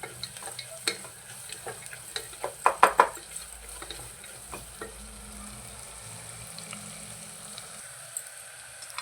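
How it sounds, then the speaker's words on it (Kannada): Onions sizzle and fry in a pan for a village-style sour upma while a spoon stirs and scrapes against the metal in a few clustered clinks, with a steady soft hiss underneath and no speech. "ಸ್ವಲ್ಪ ಈರುಳ್ಳಿ ಎಲ್ಲ ಮೆತ್ತಗಾಗೋವರೆಗೂ ಫ್ರೈ ಮಾಡ್ಕೊತೀನಿ"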